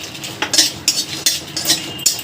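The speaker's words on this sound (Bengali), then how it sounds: "কড়াই বসিয়ে দিয়েছি, এর মধ্যে আমি প্রথমে শুকনো লঙ্কাটা একটু ভাজা ভাজা করে নেব।" Dry red chillies tossed and stirred in an open kadai with no oil, metal spatula scraping and clinking against the pan in quick repeated strokes, close and fairly loud, with no talking.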